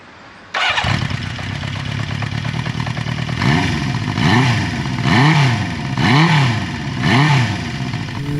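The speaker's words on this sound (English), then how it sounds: "currently riding Honda's 1975 CB550 Four, and this is a Super Sport model of it" A 1975 Honda CB550 Four Super Sport motorcycle fires up with a sharp start, then idles and rides on the road, its four-cylinder engine rising and falling through several revving swells, loud and near.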